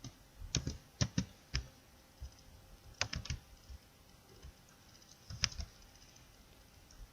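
Keys clatter on a computer keyboard while entering a spreadsheet filter formula in Excel, with three short bursts of quick, close taps separated by quiet pauses.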